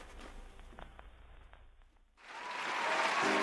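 Applause sound effect triggered on a gaming stream, a loud crowd clapping burst coming in after a quiet moment with faint tapping.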